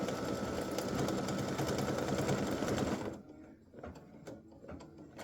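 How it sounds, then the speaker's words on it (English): Sewing machine running a triple stitch in dark smoky gray thread around a bow outline on a Christmas gnome applique, a steady close buzzing hum for about three seconds, then stopping into quieter scattered clicks and handling. "Why isn't it triple stitching?"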